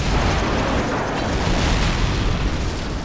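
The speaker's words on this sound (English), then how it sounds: "excellent use of an airstrike" An airstrike detonates in a video game as a dense, sustained roar of explosion, loud and broadband without a break, with no voices over it.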